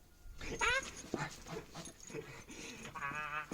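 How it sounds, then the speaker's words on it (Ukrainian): A dog pants close by and lets out two high, wavering whimpers, one early and one near the end. "Злий пес. Дуже злий пес."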